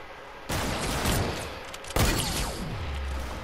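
Two loud gunshots in Fortnite about a second and a half apart, each a sharp close crack with a long rolling echo that fades slowly.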